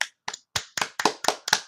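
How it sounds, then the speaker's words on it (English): A small round of applause from a few people in an interview setting: about seven distinct, close clapping bursts, sparse at first and then settling into a steady rhythm, with no talking. "Round of applause."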